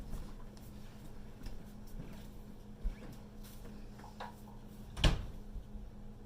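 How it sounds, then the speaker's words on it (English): A metal cookie sheet is slid into an oven, with a short scrape and a solid clunk near the end over a steady low kitchen hum and a few faint knocks before it. "I'm going to slide a cookie sheet underneath here and put it in the oven"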